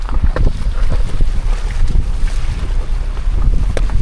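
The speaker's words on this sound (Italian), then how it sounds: "Guadatina di fiume, così subito dopo il paesino." Camper van fording a shallow river just past a village on an Argentine road, with steady splashing and rushing water mixed with heavy wind buffeting on the microphone throughout.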